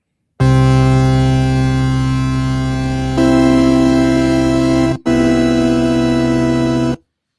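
A synthesizer holds a loud, buzzy sustained tone whose frequency is nudged partway through, shifting the pitch and brightening it, with a brief cut before it resumes and stops abruptly.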